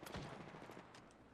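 Automatic weapon fire in the Apex Legends video game, a quick burst of rapid shots that trails off into fainter echoing pops over roughly a second.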